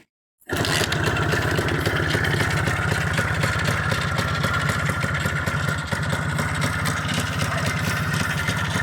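A warmed-up Minsk motorcycle engine starts abruptly and settles into a steady, close, loud idle with a rapid, buzzing two-stroke beat that continues unbroken for several seconds, with no talking.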